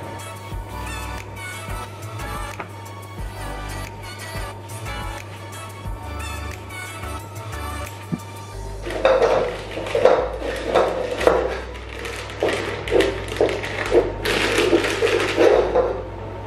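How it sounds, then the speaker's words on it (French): Egg whites are folded into almond paste with a spatula for macarons. At first only soft, sparse clinks are heard, then louder, rhythmic scraping and slapping against the bowl in the second half. "on va verser maintenant les blancs d'œufs dans la pâte d'amande et on va mélanger délicatement"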